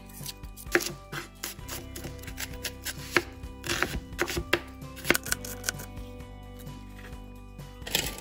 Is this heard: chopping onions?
yes